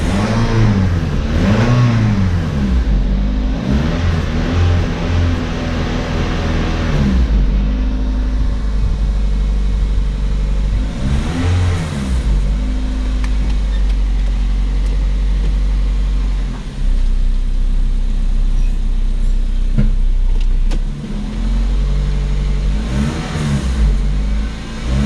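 A Matrix car engine running high sits at a loud, steady idle and is revved repeatedly in rising and falling swells, close up, with no talking.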